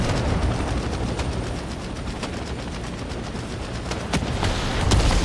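Gunfire in a tropical-themed video game roleplay session, a steady stream of rapid shots and bursts, fairly close and loud, with sharper cracks standing out near the end.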